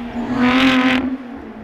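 A Lotus Exige Sport 410 engine hums steadily and smoothly at close range, a loud, even drone that swells slightly and settles with no voices over it.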